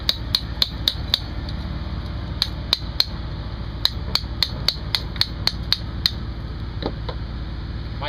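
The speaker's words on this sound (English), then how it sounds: "get my chisel more or less in line with that stroke, and just take away some material" A hand chisel is struck again and again with a hammer, sharp metallic taps arriving in quick bursts with short pauses, close and clear against a quiet background.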